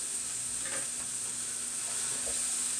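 Onions frying with salt in a pan give a steady, soft sizzle with faint stirring scrapes, heard close and alone without any talk.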